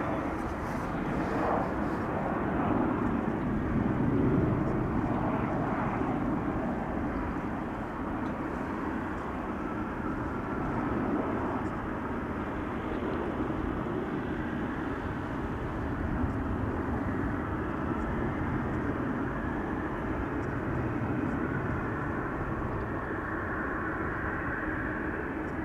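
An airliner comes in to land at Amsterdam Schiphol Airport, heard from the Schiphol Oost side. It is a steady, fairly distant broadband roar that swells slightly early on and then holds even for about 25 seconds.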